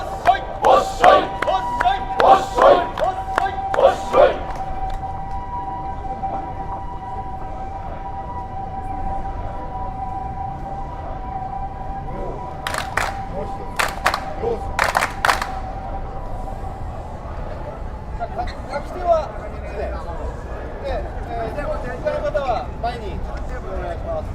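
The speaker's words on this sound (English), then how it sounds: "that's called teuchi, 手打ち。 and that's the hand clapping" Festival ritual hand clapping, teuchi, by a district neighborhood group in Japan: two sets of sharp, rhythmic group claps, one at the start and a shorter set midway, over a steady tonal hum, with people talking nearby.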